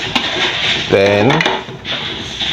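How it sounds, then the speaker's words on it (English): A utensil stirs melted shea butter mixed with chopped herb leaves in a pot, giving close, steady scraping and clinking against the pot with a soft sizzle underneath, heard alone without talk. "You stir the mixture."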